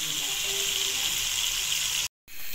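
Pieces of masala-coated rohu fish fry in hot oil with a loud, steady, dense sizzle that carries on unbroken, apart from a brief dropout near the end.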